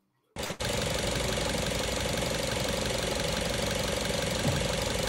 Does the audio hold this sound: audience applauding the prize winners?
no